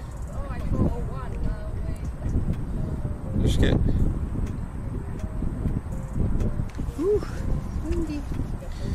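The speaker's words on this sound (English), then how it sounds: "So freaking windy." Strong gusts of outdoor wind buffet the microphone with steady low rumble throughout, while people talk and chatter over it.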